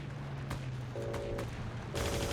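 Rapid gunfire from the online shooter Heroes & Generals, a dense burst of shots with clipped bursts overlapping under steady battlefield noise, loud and close throughout.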